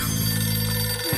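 Old-style telephone bell ringing continuously, a loud, steady metallic trill lasting the whole moment with no voices.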